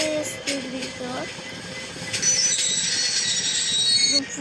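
A train braking to a stop in the game Train Simulator Bangladesh, with a long metallic wheel squeal and brake hiss rising over rail rumble, close and fairly loud, with no talk.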